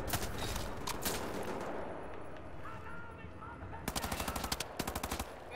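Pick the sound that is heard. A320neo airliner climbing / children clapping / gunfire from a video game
gunfire from a video game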